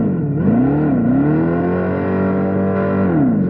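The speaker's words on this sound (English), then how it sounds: "talk about the artificial sound of the car" Dodge Charger EV's synthetic engine sound, a loud, steady droning tone with layered harmonics that swoops up and down in pitch like revving, blending a UFO-like electric hum with a muscle-car growl, alone throughout.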